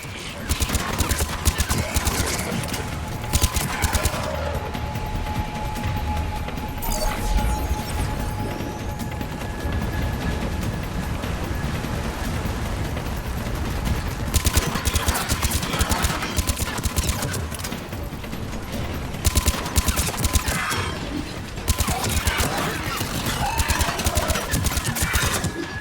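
Combat gunfire in the Mass Effect 3 video game: dense, sustained bursts of rapid shots and impacts that crackle loudly and almost without pause for about twenty-five seconds.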